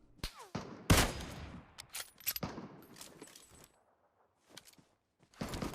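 Gunfire in the PUBG video game: several sharp, loud shot bursts scattered across the stretch, some closely spaced, with a quiet gap before a final burst.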